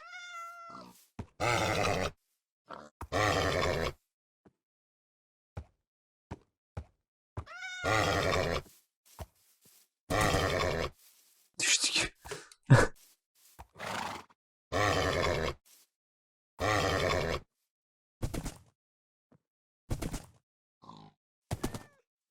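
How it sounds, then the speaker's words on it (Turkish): Minecraft horse sounds: repeated harsh grunts and snorts in regular bursts, with a high whinny partway through, loud and clean against silence between calls. "At gel bakalım buraya bir."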